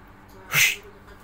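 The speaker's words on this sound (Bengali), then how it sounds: "ফাজিল একটা বিড়াল" A short, bright cat cry rises and fades in under half a second, fairly close, over a quiet background.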